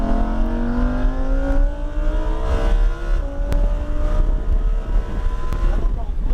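Lamborghini Huracan EVO accelerating on a race track, its engine note climbing steadily in pitch under throttle with a brief shift, loud and close with wind rush, an instructor's voice talking over it.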